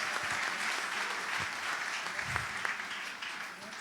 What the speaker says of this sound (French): Donne une grande acclamation à Jésus-Christ.